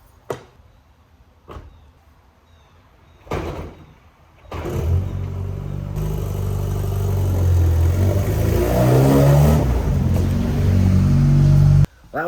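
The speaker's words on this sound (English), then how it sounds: "I'm gonna pull the Civic into the garage because it is like 30 degrees" A 1998 Honda Civic: a few sharp clicks and a door thud, then the engine starts and idles with a swelling rev as the car rolls into a garage on a cold day, loud and close, cutting off near the end.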